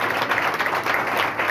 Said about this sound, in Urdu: اپنے لیے زوردار تالی بجا دیں کیونکہ آپ ابھی تک قائم ہیں